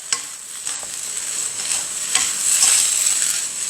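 Sweet potato stems stir-fry in a hot pan with perilla seed powder and anchovies, giving a steady bright sizzle broken by scraping stirring strokes, close and continuous for a few seconds with no voices.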